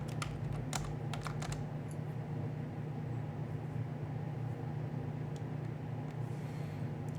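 A few quick keystrokes on a computer keyboard enter a short Linux command, light clicks bunched near the start over a steady low electrical hum, then the keys go quiet.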